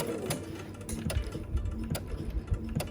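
A sewing machine stitches an accurate quarter-inch seam while piecing a Tula Pink butterfly quilt, a moderately quiet motor whir punctuated by regular ticking needle strokes.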